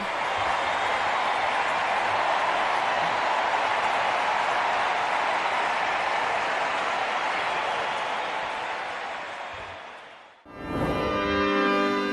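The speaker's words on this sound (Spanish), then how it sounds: "al heredero de Pedro en la tierra con una sonora ovación y los miles de fieles en pie agradeciéndole al Papa su presencia en Madrid." A large crowd of thousands applauds and cheers for the Pope in Madrid in a sustained standing ovation that fades out near the end, followed by a brief burst of another sound.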